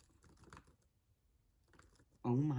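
Light typing on a 2010 MacBook keyboard sounds as scattered soft keystrokes at a low level, with a short pause, before a loud voice cuts in at the end.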